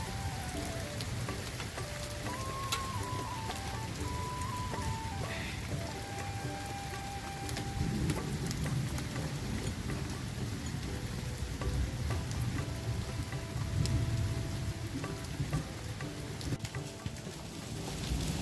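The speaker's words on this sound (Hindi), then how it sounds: "अभी तक तो केवल बारिश ही पड़ रही थी और अब देखो मोटे मोटे आंवले भी गिरने लग गए हैं" Heavy rain pelting down with hailstones, a dense, continuous patter and drumming on surfaces that thickens in the second half, loud and close, with no talking.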